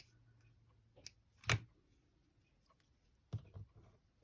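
Scissors snip through sewing thread during hand stitching for a slow stitch book, two or three quiet close clicks separated by near silence.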